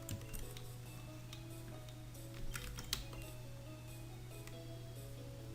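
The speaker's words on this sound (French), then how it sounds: "Vous voyez qu'on se promène avec le clavier." Computer keyboard keys tap in scattered, faint clicks while someone plays a Pokémon Gem game, with a steady low electrical hum running underneath the whole time.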